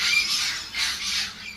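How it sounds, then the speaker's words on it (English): Bermuda cahow seabirds call on their island in a series of loud, harsh squawking cries that rise and fall in two or three long swells, close by and with no voices. "The sound of the birds and the cahals that were inhabiting the island."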